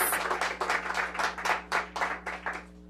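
An audience applauds a student speaker at a mayoral event launching an out-of-school-time program, the clapping steady and moderately close, with a few swelling bursts that fade out by the end.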